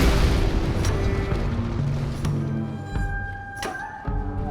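Explosive crystal tear going off in Elden Ring, with dull booming bursts and an abrupt sharp blast near the end over continuous game noise.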